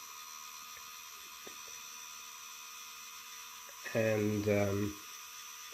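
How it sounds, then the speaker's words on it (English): A small electric motor in a model oil pump, powered by a 9-volt battery, whirs up for about a second with a loud tonal buzz, then stops, against a quiet hum with a brief spoken word. "The motor does make quite a lot of noise."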